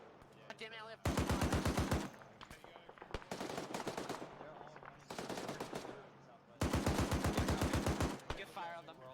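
Machine gun fire erupts in long, loud sustained bursts of rapid rhythmic shots, separated by gaps with lighter firing, heard during platoon training with voices talking in between.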